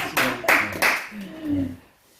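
A few sharp hand claps ring out in a church gathering as an encouraging round of applause, three distinct claps followed by a voice speaking briefly as the clapping fades.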